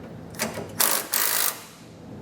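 A power tool snugs down the nuts on Hellwig Load Pro 25 progressive helper springs on a 2017 Chevrolet Silverado, giving a few short buzzing bursts over quiet background.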